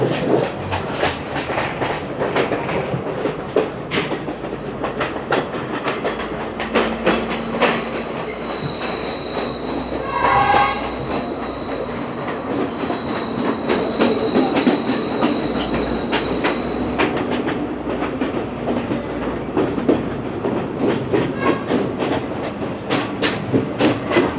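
The Ella Odyssey train in Sri Lanka rolls along the track between Ella and Ambewela, a steady close rumble with rhythmic wheel clatter and occasional squealing, continuous throughout with no voices.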